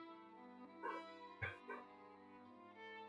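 An English setter barks several times in short bursts, fairly faint and distant over a steady tonal background hum, with no one talking.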